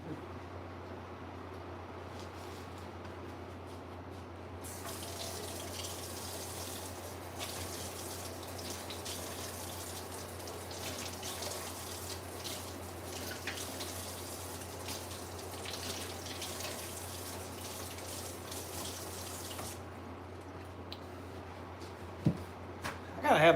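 A kitchen tap runs steadily to fill a glass with water, a continuous hiss lasting most of the stretch before shutting off, with faint background voices and a clink at the end.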